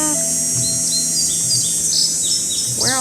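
Birds chirp and tweet in the video game Ghost Dogs of Moon Lake, a run of repeated short rising and falling whistled calls over a faint electronic hum, with a louder trill near the end.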